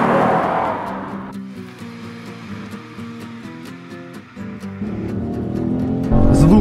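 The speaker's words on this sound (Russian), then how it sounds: "Звук мотора в салоне намного веселее, чем на улице" Acura TLX engine heard from inside the cabin on a race track, a steady droning hum with shifting tones as the car accelerates, growing louder and rougher toward the end.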